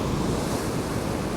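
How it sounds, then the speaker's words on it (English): Ocean waves crashing against the rocky shore at Peggy's Cove, a steady loud roar of surf mixed with wind buffeting the microphone. "just standing here watching these waves come crashing in here?"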